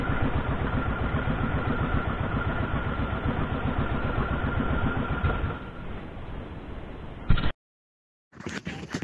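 New service boat engine roaring at full power during a test run, loud and steady with a dense rumble for about seven seconds, then cutting off abruptly into silence before a brief return of noise.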